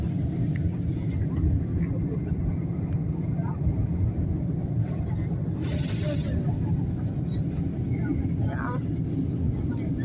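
Steady, loud broadband drone fills the cabin of an airplane in flight en route to Poland, a continuous rumble with no breaks and faint voices beneath it.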